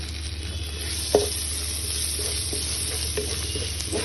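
Chopped ginger and grated garlic frying in a pan for chicken biriyani, a steady close sizzle with a brief clink of a utensil and occasional light stirring.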